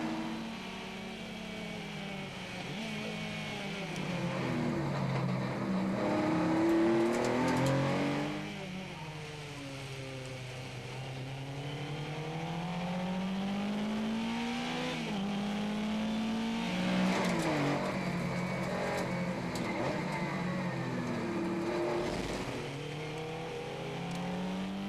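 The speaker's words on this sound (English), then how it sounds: "Jean-Marc Lucot in the Lola T286 is increasing the gap to the rest of the field on each and every lap." Historic race cars in a vintage endurance race, led by a Lola T286, roar past with engines rising and falling as they pass and accelerate, loud and continuous throughout.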